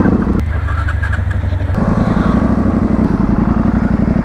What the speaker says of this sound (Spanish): El rugido de mi moto